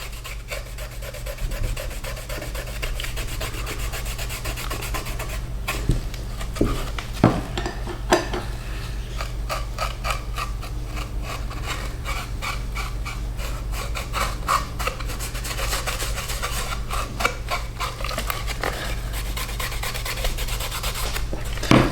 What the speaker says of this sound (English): I'm going to just rub it into the front face here